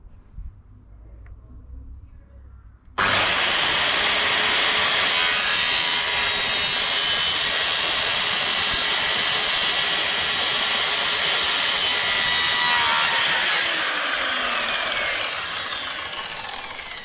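A saw cuts through a plastic air pipe for a pond bottom drain, starting suddenly after a quiet moment and grinding steadily and loudly with a harsh rasping tone until the clip ends.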